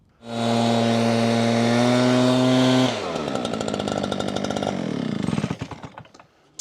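A gas backpack leaf blower roars close by at a loud, steady pitch for a few seconds, then drops to a rougher, rattling idle with choppy, uneven bursts near the end.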